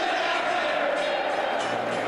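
Sellout football stadium crowd at a Leeds United v Burnley Championship match, a dense continuous roar of chanting and cheering, loud and steady throughout.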